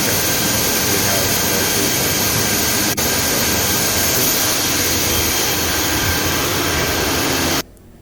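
A gas turbine runs at high RPM with a loud, steady, dense roar and a high whine that holds constant throughout before cutting down abruptly at the end.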